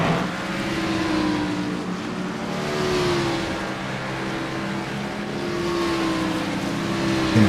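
Racing car engines drone steadily, their pitch slowly rising and falling as the cars roll off pit road together at a moderate distance on a superspeedway in a video game.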